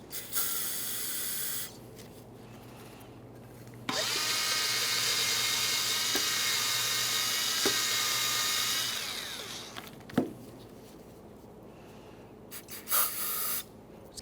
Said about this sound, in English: Some parts cleaner and a bore brush will work well for this.